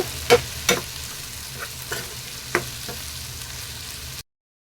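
Onions and tomatoes softening in a pan give off a low, steady sizzle, with a few sharp clinks and scrapes of a stirring spoon, loudest near the start, and no talking.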